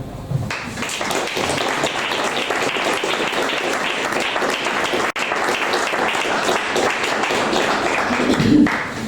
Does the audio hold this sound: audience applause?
yes